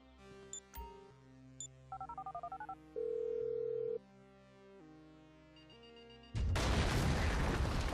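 A phone is dialed in GTA V on Xbox 360: a sequence of keypad tones and beeps, some in rapid repeated pulses, then steady ringing tones, ending in a sudden loud burst of noise.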